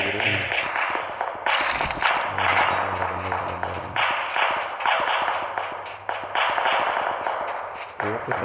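Gunfire in the video game PUBG: repeated sharp shots in short bursts, fairly close, with someone talking over them.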